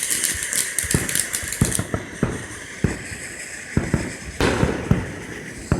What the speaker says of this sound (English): we're setting off the next firework now